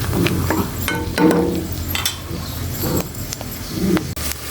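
Mushrooms sizzle and crackle in a hot casserole pan, with a utensil stirring and scraping against the metal now and then, close up.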